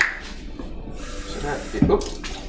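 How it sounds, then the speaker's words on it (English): Three quarters of a cup of water poured into a bowl in a home kitchen, a short steady close splash with a brief louder gush near the end. "I'm going to go ahead and add the water first"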